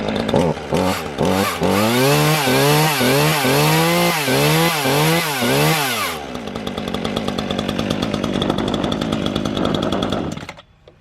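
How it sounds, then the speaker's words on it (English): A new chainsaw revs repeatedly in rising, falling bursts, then settles into a steady, rough idle-to-cutting drone before cutting off abruptly; loud and close, on a homestead. "New chainsaw on the homestead."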